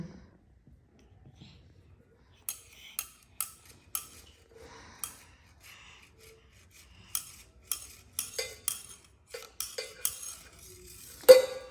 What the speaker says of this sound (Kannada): ಅವ್ರು ಇಷ್ಟಪಡೋದು ಓನ್ಲಿ ಪಾತ್ರೆಗಳು ಸೌಂಡಾಗು ಸ್ಪೂನ್ಗಳು ಚಮಚಗಳು